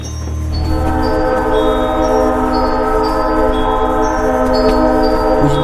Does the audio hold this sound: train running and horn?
yes